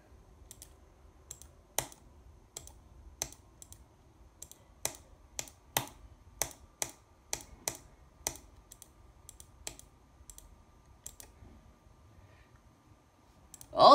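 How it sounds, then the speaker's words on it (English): An Overactive Z gaming mouse gives a quick run of sharp, distinct clicks at close range in a quiet room, bunched into fast bursts, with no talking. "speed test to show you how fast I can click with this Overactive Z mouse"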